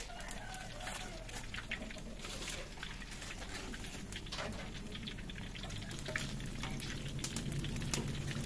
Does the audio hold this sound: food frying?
yes